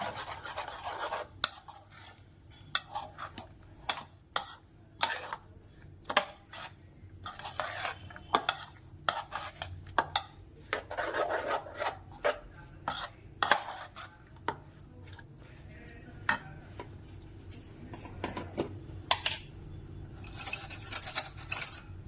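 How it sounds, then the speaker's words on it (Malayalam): A spoon stirs and mixes ingredients together in a bowl for a breakfast batter, with repeated scraping and sharp clinks of metal on the bowl in an irregular rhythm, close and fairly loud. "ഇതെല്ലാം കൂടെ നമുക്കൊന്ന് മിക്സ് ചെയ്യാം"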